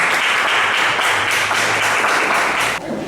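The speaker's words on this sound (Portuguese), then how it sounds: "Uma forte salva de palmas." A church congregation applauds loudly with dense, continuous clapping that holds steady for nearly three seconds, then stops abruptly.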